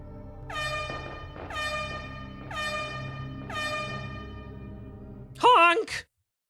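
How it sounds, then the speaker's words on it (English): A video game air horn blares in four loud, sustained blasts at a steady rhythm, then gives one shorter, wavering honk before cutting to silence. "Do you like air horns?"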